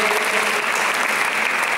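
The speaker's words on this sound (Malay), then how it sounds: "Tepukan untuk diri kamu sendiri." An audience claps steadily and densely throughout, a sustained burst of applause from a seated crowd.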